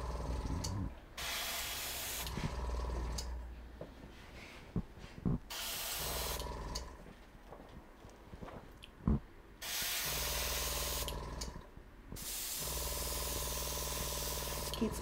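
A spray bottle mists water onto a model during a photo shoot, with several loud hissing bursts of a second or two separated by quieter stretches with soft rustling.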